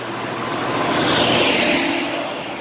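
A truck passes nearby as a single broad whooshing roar that swells to a peak midway and fades again, heard alone with no talk.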